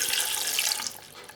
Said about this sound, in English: So I just need to add half a pint of water